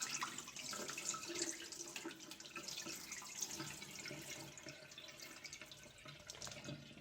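Cloudy rice-washing water is poured away into a sink, a soft, close trickle and splash of running water that continues unevenly throughout.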